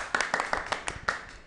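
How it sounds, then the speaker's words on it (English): Young children in a kindergarten English class clap their hands in an uneven burst of about eight sharp claps, fairly faint and close together, with no speech over them. "Clap for yourself."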